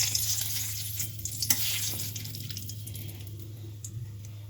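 Bay leaves drop into hot oil in a wok for potato biryani just after the gas flame is turned off, giving a steady, close sizzling hiss throughout with a low background hum and no talking.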